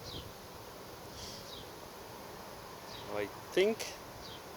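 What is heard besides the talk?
honeybees bearding outside a hive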